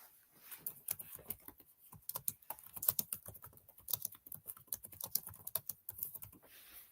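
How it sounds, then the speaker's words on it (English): Rapid, irregular keystrokes on a computer keyboard clatter close up and steadily for several seconds, entering text while charting a live forex market. "And then I'm going to type break and close."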